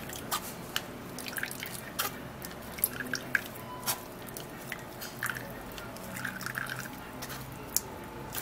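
Onion juice drips as grated onion is strained, a string of small irregular close drips and wet squishes over a quiet background, with no talking.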